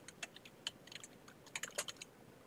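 Computer keyboard keys tap in quick, irregular bursts as a location name is typed into software, faint and close with no talking.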